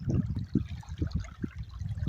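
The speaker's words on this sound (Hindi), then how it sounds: "ज़बरदस्त ज़ोर शोर से पानी चल रहा है और अल्लाह करे ये मलिर नदी ऐसी ही" The Malir river flows strongly, a deep, churning rush of water with surging low pulses, loud and continuous outdoors.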